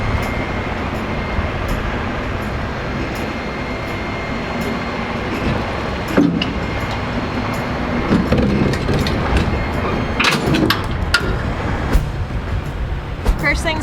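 A FedEx Ground truck hauling double trailers backs up, a steady low diesel rumble with rattling, clanking couplings and occasional sharp knocks toward the end.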